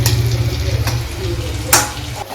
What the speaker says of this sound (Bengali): এই যে আমার আলু ভাজা হয়ে গেছে